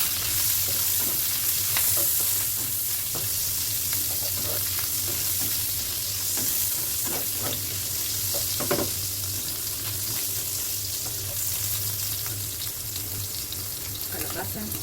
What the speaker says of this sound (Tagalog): Lagyan na natin ating bawang.